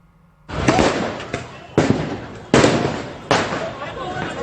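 Celebration fireworks burst in a series of loud, sharp explosions, four or five big booms spaced about a second apart, each followed by crackling and rumbling decay, with a crowd murmuring underneath.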